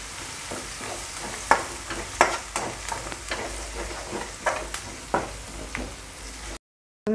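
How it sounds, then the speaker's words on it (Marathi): Chili pieces and ginger-garlic paste fry in a pan for a traditional panchamrut vegetable dish, with a low steady sizzle broken by sharp spatula scrapes and stirring clatters at an irregular rhythm. "आता यामध्ये केलेले मिरचीचे तुकडे पण आपण चांगले फ्राय करून घेऊया।"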